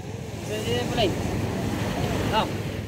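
Big waves crash on the Bucana shore in strong wind, a steady, close roar of surf and gusts, with faint voices calling briefly underneath.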